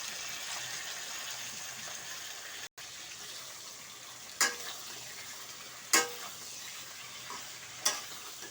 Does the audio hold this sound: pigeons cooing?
no